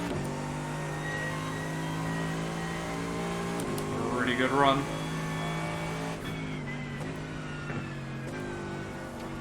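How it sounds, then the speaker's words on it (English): A snarling V8 race car engine in iRacing at Brands Hatch holds a steady droning pitch with a short rising shift of revs midway, while someone talks over it. "Big snarling V8."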